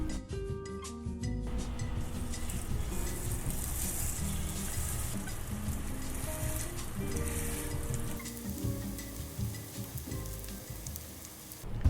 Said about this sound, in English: we're gonna cook our burgers. 3 at a time, 5 minutes each side.